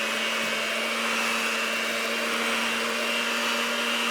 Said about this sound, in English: we're also gonna add in 1 egg and give this a mix.